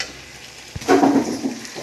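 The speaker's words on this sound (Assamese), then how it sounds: "ধুনীয়াকৈ লৰাই এইখিনি আৰু অলপ সময় ভাজি ল'ম।" Goat meat fried with a little red chili powder being stirred in a pan, a brief scrape followed by a near, steady sizzle.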